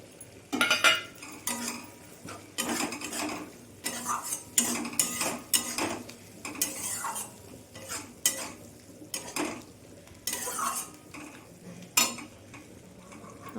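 Spice paste with chopped tomatoes is stirred and fried in a pan, the utensil scraping and clinking against the metal in irregular bursts over a soft, continuous sizzle, close and fairly quiet.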